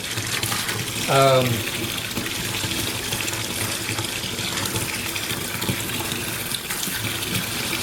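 Water gushing into a re-engineered American Fodder Box used to feed horses, a steady broad rush with a brief louder surge near the start, continuing evenly throughout.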